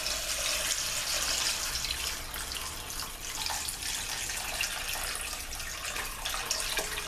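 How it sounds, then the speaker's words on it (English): Water loosened with leftover seasoning is poured into a pot of Jamaican-style oxtails, making a continuous close splashing and gushing for about seven seconds with no speech. "you're going to pour that into the pot of oxtails"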